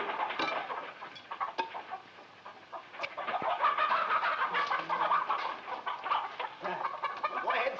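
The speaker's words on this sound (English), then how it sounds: "feed the chickens" Chickens cluck and chatter continuously in a farmyard, a busy flock of fowl heard close and moderately loud with irregular pecking and clucking bursts, no speech.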